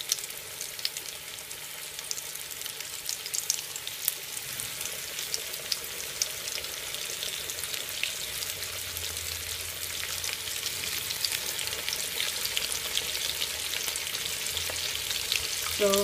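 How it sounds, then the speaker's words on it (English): Chicken wings frying in hot oil give a steady, close, crackling sizzle that runs throughout with no talking. "gonna quickly put all my wings in the oil"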